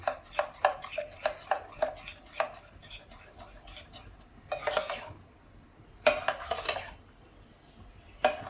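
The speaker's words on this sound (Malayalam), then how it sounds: "അതും കൂടെ ചേർത്ത് നന്നായിട്ട് മിക്സ് ചെയ്യാം" A spoon repeatedly scrapes and clinks against a bowl while mixing egg and carrot batter for fritters, in quick rhythmic bursts with short pauses between, fairly close and clear.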